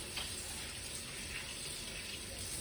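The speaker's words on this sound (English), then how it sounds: "I always feel like I have to wash my hands before handling any type of food." A kitchen tap runs steadily while hands are washed under it, a continuous fairly quiet hiss of flowing water with no voices.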